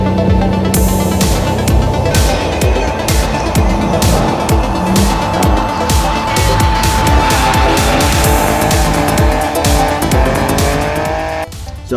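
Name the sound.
car driven on race track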